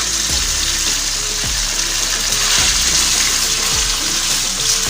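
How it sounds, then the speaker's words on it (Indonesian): Meatballs frying in hot oil make a steady, close sizzle with dense crackling, broken by a few low clunks of stirring, for Javanese fried noodles. "Yang pertama-tama kita mau goreng baksonya dulu."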